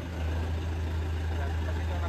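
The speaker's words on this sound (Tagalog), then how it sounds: "pandarin muna natin itong ating traktora" A tractor engine idles steadily on a New Zealand dairy farm, a low, continuous rumble holding even throughout with no other sounds over it.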